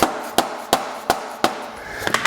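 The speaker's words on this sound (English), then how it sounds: "You can even knock it with a hammer on the back here to really get it in there." A hammer knocks a part into place on a 1999 Kawasaki KX250 two-stroke dirt bike during a rebuild, five evenly spaced sharp metallic blows followed by a quick cluster of lighter taps, close and loud with no talking.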